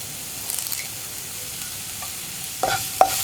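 Garlic, ginger, green chillies and curry leaves sizzle in a pan, a low steady hiss with a few light scrapes and two sharper clinks of a spoon near the end.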